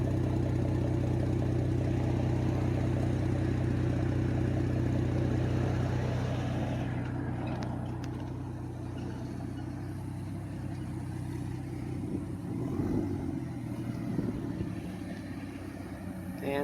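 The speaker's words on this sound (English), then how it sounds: "Idle sound." A modified Ford Taurus SHO with its muffler deleted idles close by, a loud, deep steady rumble with a throbbing low pulse that eases slightly partway through, mechanical clatter on top.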